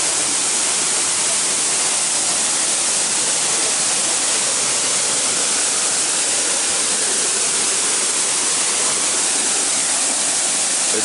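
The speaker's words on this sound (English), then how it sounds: "wow this is waterfall it's a waterfall" A waterfall near Fort Portal, Uganda, roars as a dense, steady rush of falling water, loud and close, unbroken for the whole stretch with no voices over it.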